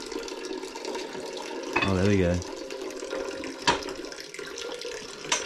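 Juice streams out of a fruit press as apples are squeezed hard during home pressing with a Lebanese family, a steady trickling flow running throughout while a voice briefly exclaims partway through.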